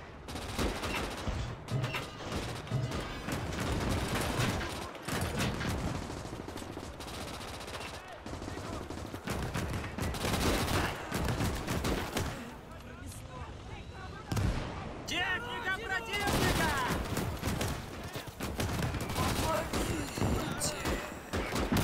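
A field gun fires during a World War II battle in Gates of Hell: Ostfront, loud cracks among dense, continuous machine-gun and rifle fire, with a voice talking over parts of the barrage.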